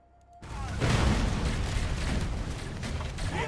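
Explosions in the real-time strategy game Dawn of War during an Ork versus Eldar match: a sudden loud boom kicks off a dense, sustained rumbling roar with crackling debris, close and filling the whole stretch.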